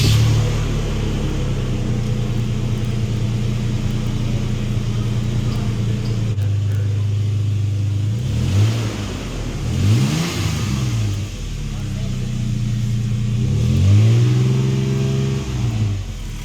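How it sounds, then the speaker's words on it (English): A Toyota FJ Cruiser engine fitted with a supercharger idles with a steady low rumble, then revs in several quick throttle blips that rise and fall, close and loud, with no talking. "they also make the engine sound better, with a throatier and more powerful tone"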